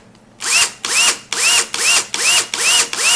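A DeWalt cordless drill/driver fires in seven short, loud bursts, each whirring up then stopping with an abrupt brake jolt, in a steady rhythm close by.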